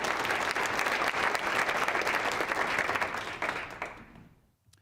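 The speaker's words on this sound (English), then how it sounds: "Let's give Malik one more round of applause" Sustained applause from an audience at a university outreach and engagement awards ceremony, a dense, steady wash of clapping that holds strong for several seconds before tapering off and fading out near the end.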